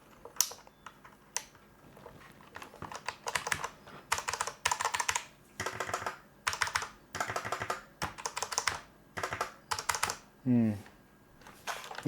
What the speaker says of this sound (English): I kind of like the Rio Toro keyboard, but it's a little bit too clacky.